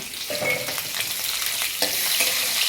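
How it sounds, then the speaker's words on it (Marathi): Garlic sizzles steadily in hot oil, a constant crackling hiss with a few brief stirring scrapes and no talking. "हा लसूण टाकून देणार आहे तेलामध्ये परतवण्यासाठी"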